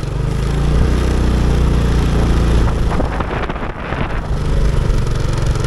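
A two-wheel tractor passes along a village road in rural Thailand with a loud, close, chugging engine roar that swells and dips briefly midway before continuing, with no talking.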